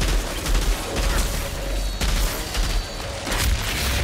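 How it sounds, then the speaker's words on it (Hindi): Gunfire in the video game Outriders, loud dense bursts of shots and booming impacts packed close together across the whole stretch, with no talking. "हाँ बरसा ले गोली"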